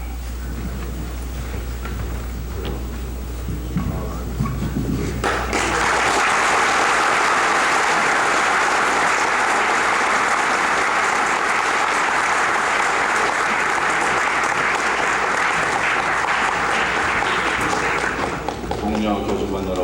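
University staff break into loud, dense applause at a presidential inauguration ceremony, starting abruptly after a quieter opening and holding steady for over ten seconds before easing off.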